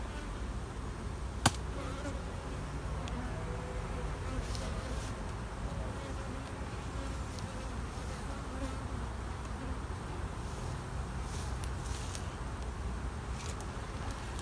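Bees buzz steadily around a hive full of honey, a close, continuous droning hum of many insects with individual bees passing nearer now and then, and a single sharp knock early on.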